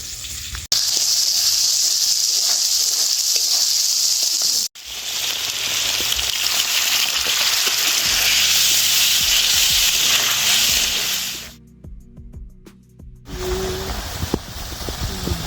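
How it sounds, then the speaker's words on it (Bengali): Bengali katla fish kalia gravy of spices and water comes to a steady boil in a pan, giving a loud continuous sizzling hiss that briefly cuts out and dips before resuming, with no voices. "আমাদের এখানে ঝোলটা খুব ভালো মতো ফুটে গেছে"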